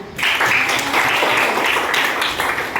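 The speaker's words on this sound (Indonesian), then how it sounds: "Tepuk tangan" Students in a classroom clap together after their teacher praises them, a loud, close burst of many hands that holds steady for a few seconds.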